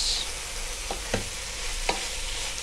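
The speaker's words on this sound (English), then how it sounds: "stir your spinach, scrape your pot" Spinach being stirred in a pot while it cooks, with a steady sizzling hiss and a few short scraping strokes of a utensil across the pot bottom, up close and without speech.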